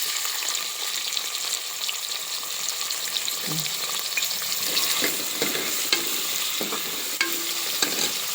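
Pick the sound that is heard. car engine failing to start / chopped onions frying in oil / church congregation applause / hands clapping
chopped onions frying in oil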